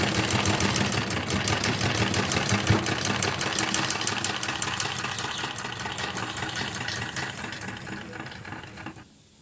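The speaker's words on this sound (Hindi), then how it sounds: "इस तरह से दूसरी किनारे पर भी हम सिलाई लगा लेंगे" An electric sewing machine runs a straight stitch along a fabric edge, its fast steady motor whir and needle chatter continuing close and loud for several seconds before stopping abruptly, with no voices.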